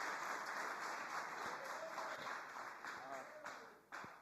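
Audience of men at a church talk clapping for a volunteer who came to the front, a faint, steady patter of applause with a voice talking over it.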